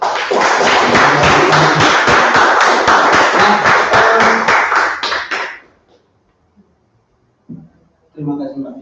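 A student group from Muhammadiyah Malang claps in a loud, dense round of applause for about five seconds before it fades out, followed by a short spoken word.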